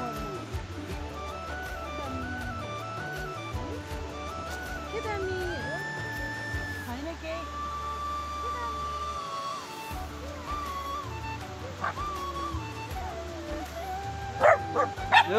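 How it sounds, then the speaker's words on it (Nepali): Small local dogs bark and yip at passers-by near a river in Nepal, a few sharp barks and whimpers over steady background noise and talk. "यहाँ सानसानो लोकल कुले भुक्दैछ हामीलाई."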